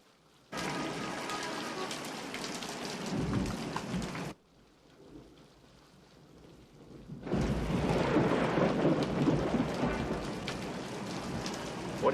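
A thunderstorm with heavy rain pours in loud, steady bursts, cut off by a quieter stretch with faint rumbling, then returns even louder with a dense hiss of rain on surfaces.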